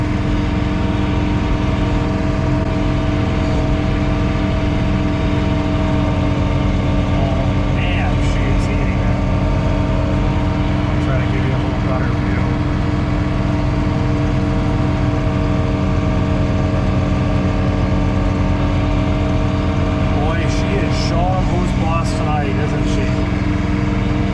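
A John Deere 3 Series compact tractor drives its front snow blower at 2,100 RPM, a steady loud mechanical drone with strong low harmonics running continuously at close range, with faint wind and scattered higher whines on top.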